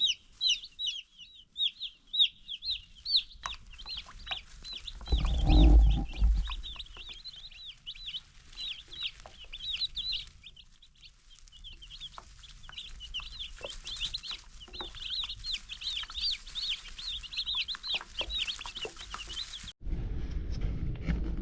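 Backyard chickens cluck softly in a steady chatter through the whole stretch, with a brief low thump partway through and a burst of rumbling noise near the end.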